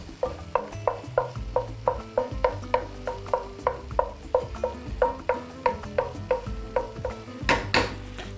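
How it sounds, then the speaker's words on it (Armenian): Steady, rhythmic scraping of a spoon stirring onions in a pan, over a soft continuous sizzle of onions frying. "Հենց սոխը սկսեց հալվել, այսպես պատերի տակ ենք տալիս"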